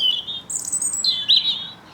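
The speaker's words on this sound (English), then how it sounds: "Love listening to robins." A robin sings from a tree very close by, loud bright phrases of high trilling and warbling notes in quick succession with short gaps, clear over a quiet background.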